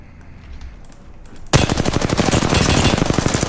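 Sudden rapid automatic gunfire in the Apex Legends video game breaks out after a quiet moment, a loud sustained burst of close shots that continues to the end.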